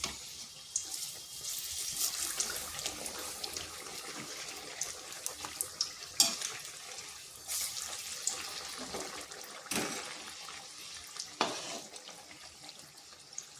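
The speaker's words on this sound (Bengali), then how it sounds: "এরপর এই গরম তেলের মধ্যে ছেড়ে দিচ্ছি। এইভাবে মিডিয়াম আঁচে ভেজে নিতে হবে।" Slices of bread frying in hot oil over medium heat, a steady close hiss and sizzle with scattered crackles and pops throughout, no talking.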